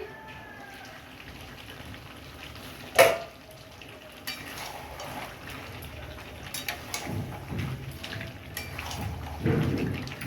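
A cooking pot lid comes off with a single sharp metallic clank, followed by soft clinks, bubbling and faint sizzling from a simmering chicken and potato curry, with no voices.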